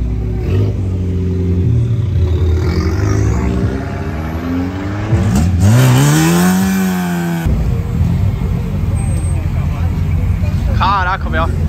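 Opala car revving hard as it pulls out and slides sideways at a car meet, the engine climbing in a rising rev sweep, loud and close, over crowd noise.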